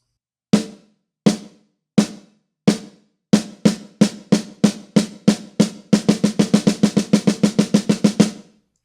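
A drum, likely a snare, played as a beginner exercise: widely spaced single strokes at a steady tempo that tighten into closer notes, then a dense run of sixteenth notes, all crisp and close with no talking.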